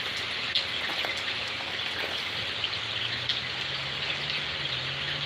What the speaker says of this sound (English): it wasn't just rain, it was a thunderstorm.